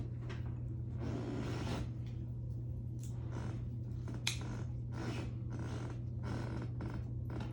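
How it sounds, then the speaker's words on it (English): Squeaky old wooden floor creaking under footsteps, a series of drawn-out groaning creaks in an irregular rhythm, close and fairly quiet over a steady low hum. "Squeaky old floors."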